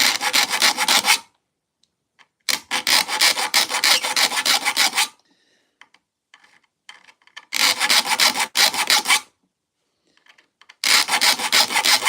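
Hand saw teeth being sharpened with a file, several bursts of steady rasping strokes separated by short quiet pauses, close and fairly loud.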